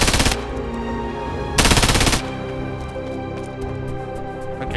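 Rapid automatic energy weapon fire in the video game Silica, with two loud sustained bursts over a steady background hum of game sounds.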